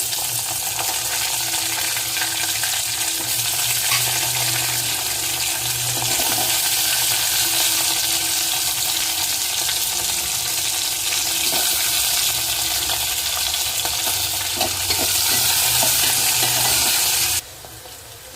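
Green chillies and onions fry in a tempering in the pan for a horse gram dish, giving a dense, loud, continuous sizzle that runs unbroken before dropping off abruptly near the end, with no voices.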